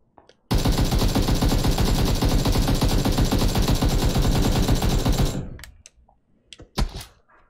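An AKM rifle fires on full auto in a video game, a long unbroken burst of rapid, loud, close shots lasting about five seconds, then it stops and a few clicks and handling sounds follow.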